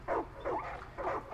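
A dog in Far Cry 5 barks angrily in three short bursts, each one clear and fairly close, with no talk over them.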